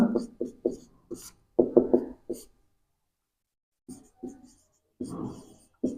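A pen scratches out a handwritten answer to a physics question, close, quick bursts of strokes with short gaps and a longer pause mid-way, no speech over it.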